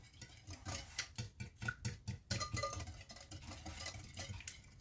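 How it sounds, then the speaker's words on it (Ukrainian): Apple pie batter is mixed by hand with a whisk in a bowl, making quick rhythmic scraping and clinking strokes, close and fairly quiet. "Міксером не треба, можна просто вінчиком все гарненько перемішати."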